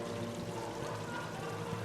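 Water from a waterfall in Mass Effect 3's Citadel DLC: a steady, dense rush of pouring and splashing, fairly faint and unbroken throughout with no voices.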